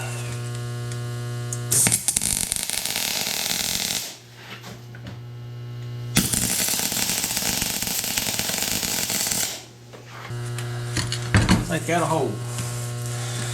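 Arc welding on a bolt for door rollers crackles and sizzles in two long close bursts over a steady electrical hum, with quiet gaps between, and someone speaks briefly near the end.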